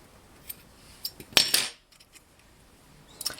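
Scissors snip through black yarn at the end of a row of a Sentro-knit reversible hat, a loud crisp metallic cut with a few lighter clicks around it, close up and with no voices.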